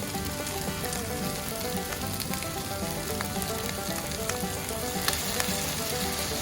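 Rice noodles with prawns frying in a hot pan with tamarind sauce for pad thai, a loud, steady close-up sizzle with a few sharp crackles and utensil clicks, no voices.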